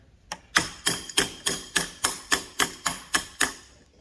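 Small hammer tapping a high-pressure power steering line fitting on a 2003 Acura RSX Type S, about a dozen crisp metallic taps in a steady rhythm, close up and alone.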